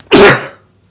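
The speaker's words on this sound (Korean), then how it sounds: "기침이 잠깐 나왔네요." A single sharp, loud cough close up from a man giving an online lesson, followed by quiet.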